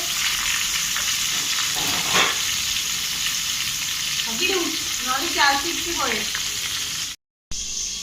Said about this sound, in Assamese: এয়া আমি এতিয়া মাছ ফ্ৰাই কৰি আছো।